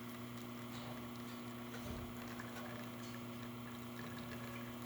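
A Lelit Bianca V3 espresso machine pumps water through its group head, giving a steady, continuous mechanical hum with a constant low drone and an even watery rush.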